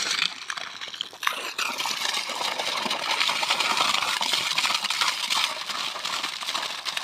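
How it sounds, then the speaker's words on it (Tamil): The season's first water flow begins rushing and splashing, a dense, steady gush close by after a brief clatter, flowing continuously without pause. "வர தொடங்கிருச்சு தண்ணி முதல் தண்ணி"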